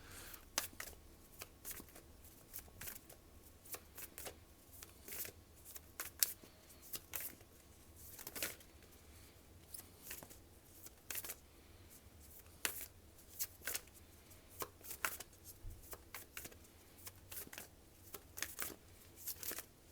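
Tarot cards being shuffled by hand, repeated soft riffling and slapping bursts at an irregular rhythm, fairly quiet and close, with no talking.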